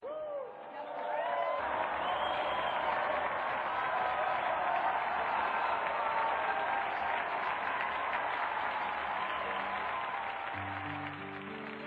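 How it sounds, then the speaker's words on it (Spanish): Sustained applause from a church congregation honoring Saint Hilary of Poitiers, a dense, loud wash of many hands clapping with some crowd noise, continuing steadily for several seconds before easing slightly at the end. "brindemos nuestro devoto aplauso a San Hilario de Poitiers"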